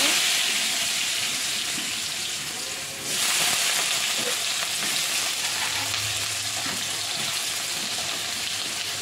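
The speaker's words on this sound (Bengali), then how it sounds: "তো গাইস আমি এবার আলুটা ভেজে নেব।" Potatoes frying in a pan, a steady close sizzle running throughout with faint scraping and clinks of stirring.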